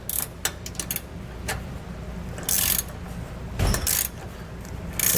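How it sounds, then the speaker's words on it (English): A 3/4 inch socket wrench snugs up bushing clamp bolts on a rear anti-sway bar of a 2021 Thor Hurricane motorhome, with close, short bursts of metallic ratcheting clicks and pauses between strokes, no talking. "we're going to start snugging up and torquing our hardware right here at the bushing clamps"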